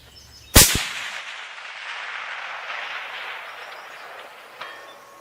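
A single loud, sharp crack from a 7mm Magnum rifle firing Remington Core-Lokt Tipped rounds at a long-range target, followed by a long rolling echo that fades out, with a faint distant impact thud several seconds later.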